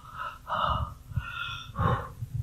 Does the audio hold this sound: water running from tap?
no